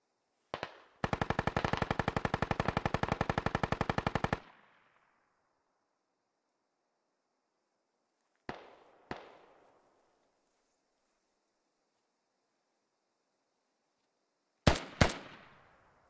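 Gunfire in a military shooter video game: a long rapid automatic burst of about three seconds, then two single shots several seconds later and a final quick pair of loud shots, each with a short echoing tail, no talking.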